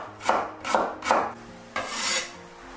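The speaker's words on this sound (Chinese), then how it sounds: "准备把葱叶将它切成长段， 再来切点姜片" Kitchen knife slicing ginger on a cutting board, four crisp cuts, three quick ones then a longer stroke, close and alone.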